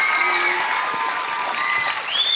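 Applause from a live television studio audience at a singing competition, a steady dense wash of clapping with some cheering, loud and close, filling the whole moment without talk.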